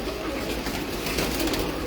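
A pigeon coos on a rooftop in Lala Musa among a flock of kept birds, soft low murmuring calls under a constant wash of background noise.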